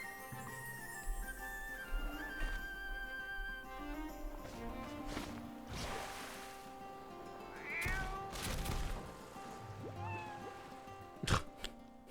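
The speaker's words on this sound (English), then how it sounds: "The sad meow as the ship went down." A cat meows several times in a Cat Quest game trailer, plaintive cries set over music and sound effects, with a sharp impact near the end.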